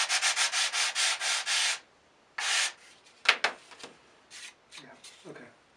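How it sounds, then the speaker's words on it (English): Rhythmic back-and-forth scraping of a sanding block on wood, about eight quick strokes, then a pause and a few scattered rubs and knocks. "That edge, again, just use the sanding block."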